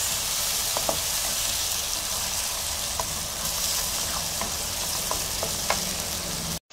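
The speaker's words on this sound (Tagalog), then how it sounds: "So gisa-gisa lang natin guys itong kamatis hanggang magiging ano po siya, juicy." Tomatoes sauté with browned garlic in a pan, giving an even, close sizzle with scattered light pops and stirring clicks throughout, ending abruptly.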